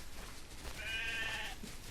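Sheep in a farming video game bleat once, a short faint bleat set against a steady low background hum, with no talking over it.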